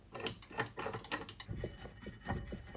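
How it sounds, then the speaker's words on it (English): A single screw is tightened at the bottom of a refitted sprocket cover on a Kawasaki S1 engine casing, giving close, quiet clicks and ratcheting mechanical ticks in an irregular rhythm, with no talk. "I refit the sprocket cover, securing it with one screw at the bottom."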